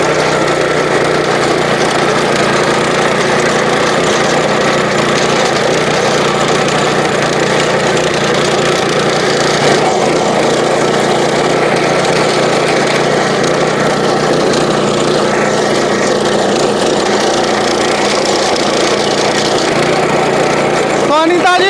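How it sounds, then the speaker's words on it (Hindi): A heavy-duty power tiller engine runs continuously while working a dry field, a steady loud mechanical drone that holds for the whole stretch without stopping. "आपको अभी सूखे हुए खेत में आपको चला के दिखा रहा हूँ"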